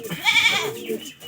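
A goat bleats once at close range, a wavering, nasal cry that rises and falls, with a human voice faintly mixed in around it.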